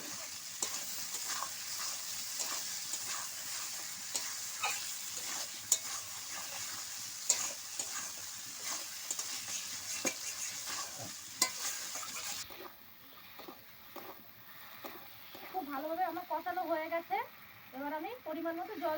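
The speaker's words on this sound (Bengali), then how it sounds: "আমি আলু দিয়ে আরো কিছুক্ষণ কষিয়ে নেব।" Spice masala and potatoes sautéing in oil for rohu fish curry, a close, steady sizzle with spoon knocks that drops away partway through, followed by someone talking.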